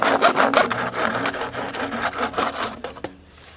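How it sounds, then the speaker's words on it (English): An old hand saw cuts through wood in a steady back-and-forth rhythm of rasping strokes, close and fairly loud, ending in a brief pause after the last strokes. "we're gonna do one more little job with this old saw before we bury it"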